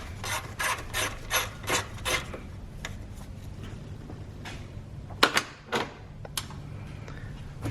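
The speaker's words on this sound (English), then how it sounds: "And then you got to remove this number 10 size nut here." A ratchet works a 10 mm nut loose on a 2006-2013 Mercedes-Benz S550 V8 during a coolant reservoir replacement, with repeated close rasping clicks in short rhythmic bursts, then a few sharper knocks and scattered clicks.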